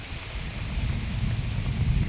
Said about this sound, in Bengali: হঠাৎ বৃষ্টি চলে আসছে